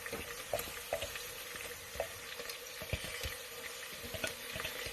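A whole head of garlic frying in a pan for homemade pizza sauce, a close, steady sizzle broken by frequent stirring taps and scrapes, fairly quiet and with no talk.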